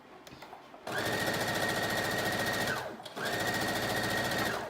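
A sewing machine runs fabric through in two loud, steady bursts of rapid stitching with a brief pause between them, preceded by faint handling noises.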